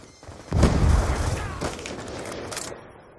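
Game gunfire in Black Ops 2, a loud burst of shots and a heavy boom at the start followed by a sustained rumble of scattered fire and a few sharp cracks.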